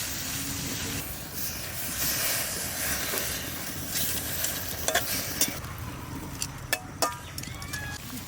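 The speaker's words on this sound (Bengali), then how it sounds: "জল গরম হয়ে গেছে আর শাকটাও আমি সুন্দর করে ধুয়ে নিয়ে এসেছি এবার দিয়ে দেবো হালকা সেদ্ধ করে নেব" Freshly washed garden spinach goes into hot water on the stove, giving a steady rushing, bubbling hiss with a few sharp clicks and clatters near the end.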